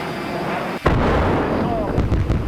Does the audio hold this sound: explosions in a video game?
yes